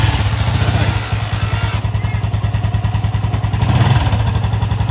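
Engine of a Rusi TC-125 motorcycle running steadily with a low, rhythmic idle throb up close, swelling slightly as it revs toward the end.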